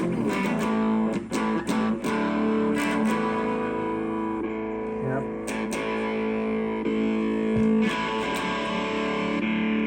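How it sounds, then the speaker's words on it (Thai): An electric guitar plays through the heavy overdrive distortion of a Boss ME-25 multi-effects unit, sustained gritty chords ringing out loud and close. "อันนี้คือโทดไรนะครับไรก็คือจะเป็นเสียงแตก"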